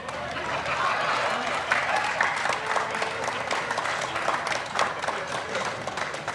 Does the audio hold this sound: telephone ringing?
no